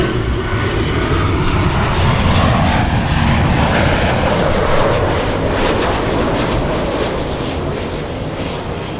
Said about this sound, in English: Emirates A380, ladies and gents. It's on final approach.